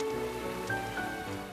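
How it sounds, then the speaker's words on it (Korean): Water spraying from a sprinkler in a film scene, a steady, hissing patter like rain that is continuous and moderately loud, with no voices. "스프링클러에서 쫙"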